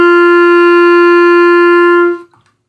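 A clarinet mouthpiece and reed fitted into a long wooden tube play one loud, steady, mellow held note for about two seconds before it cuts off cleanly.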